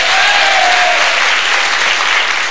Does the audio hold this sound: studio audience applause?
yes